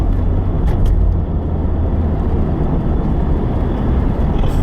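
Steady, loud engine and road rumble inside a moving car, continuous low drone with no speech.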